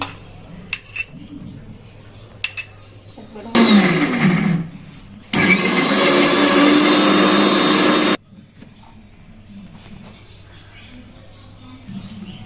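A kitchen mixer grinder blending steamed peas, green chilli and ginger into paste, running in two loud bursts with a short pause between, close by with quieter room sounds before and after.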